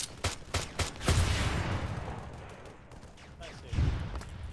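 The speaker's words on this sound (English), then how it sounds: "that's the way you shoot the rocket" Rocket launcher fire in the Halo-themed Arma 3 mod sounds as a rapid cluster of sharp shots, then one heavy blast that trails off, with another thump near the end in a mid-distance battlefield.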